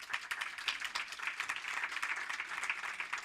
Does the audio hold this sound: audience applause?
yes